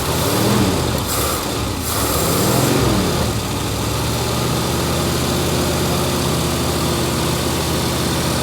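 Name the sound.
old pickup truck engine idling and revving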